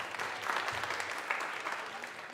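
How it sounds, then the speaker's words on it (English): A church congregation at an Easter Sunday service gives a brief round of applause, a steady, dense patter of many hands at moderate volume with no speech. "Clap if you think it's false."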